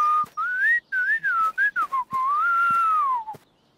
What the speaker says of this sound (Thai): แต่แพทเจ็ตไม่ต้องมีน้ำผลไม้ก็ผิวปากได